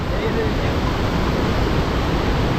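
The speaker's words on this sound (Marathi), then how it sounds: "नापणे शेरपे धबधबा म्हणतो तो सगळ्यात मोठा धबधबा आहे" The Napne waterfall in Sindhudurg, a tall fall of roughly three hundred feet, roars as a loud, steady broadband rush of falling water with no break.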